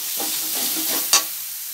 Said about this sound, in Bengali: মশলাটা আর একটু ভালো করে কষে নেব